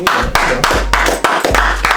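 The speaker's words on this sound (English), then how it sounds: "Clap it up again for Logan." Several sharp claps in an uneven rhythm, close and loud, with a low rumble underneath, in a podcast studio.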